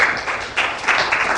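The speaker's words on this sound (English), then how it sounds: "Give them a clap." Audience in a group goal-setting session clapping: a short, fairly loud burst of applause with uneven claps that swells and fades within a moment.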